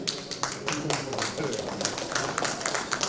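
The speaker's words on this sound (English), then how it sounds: "An applause for her." Audience applause for Ravisha, the moderator at an architecture and interiors design debate in Bhopal, a dense, even patter of clapping with voices mixed in.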